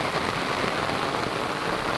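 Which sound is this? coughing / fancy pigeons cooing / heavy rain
heavy rain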